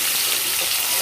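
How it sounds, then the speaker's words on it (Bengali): Onions frying in hot oil give a dense, steady hiss of sizzling that holds evenly for a brief moment, close and loud, with no talking. "এখন আমি পেঁয়াজ দিয়ে দেব। পেঁয়াজগুলো ভালো করে ভেজে নেব।"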